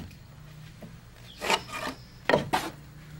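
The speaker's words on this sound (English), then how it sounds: "and we're marking our rafters" A rafter template with a 4/12 plumb cut is scribed against wooden rafters, giving a few short, close scraping strokes spaced out over a quiet background.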